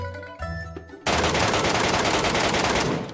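A rapid automatic burst of incendiary rounds fires in the video game Metro Escape, loud and sustained after a second of quieter in-game tones and clicks.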